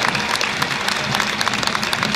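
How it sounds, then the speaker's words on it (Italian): Applause from the crowd for the Alba flag-wavers at the Palio procession, a dense, steady wash of many hands clapping at once, loud and continuous throughout. "Un applauso agli sbandieratori di Alba."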